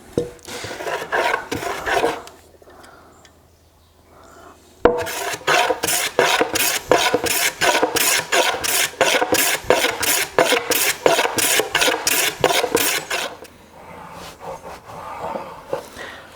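A rasp or file chamfers the edge of a wooden curved-staircase tread: a few scraping strokes, a brief quiet gap, then a long run of fast, even, loud strokes close by.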